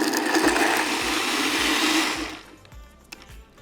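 A ZWILLING Enfinigy blender on its smoothie setting whirs loudly through frozen fruit for about two seconds, then cuts out, leaving faint clicks and a soft settling hum.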